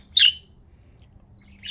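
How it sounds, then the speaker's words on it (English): Pet bird giving a sharp, loud squawk close by, then quiet before a second shorter chirp at the end, over faint low room hum. "It's a bird."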